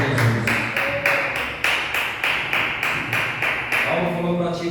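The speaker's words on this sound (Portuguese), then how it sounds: "Palmas para Jesus." A church congregation claps in praise, a roughly regular run of about ten sharp, bright claps at a brisk pace, loud and close, with a faint voice rising near the end.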